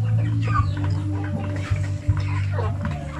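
Native chickens kept in a confined pen cluck in short, irregular bursts over a steady low hum. The sound is fairly loud and close, with faint human sounds in the background.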